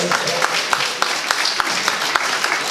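Brief burst of clapping and cheering from a family audience at an International Men's Day event, dense hand claps with a few sharper individual claps standing out, moderately loud and close.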